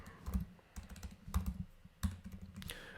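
Bursts of computer keyboard typing, close and fairly loud, in uneven clusters of rapid keystrokes with short pauses between them, with no voices.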